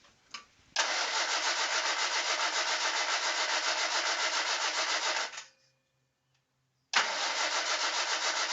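A Humber Sceptre Mk3 petrol engine is cranked over after a fuel pump swap in a long rhythmic churning burst, stops for a moment, then cranking starts again, close and loud.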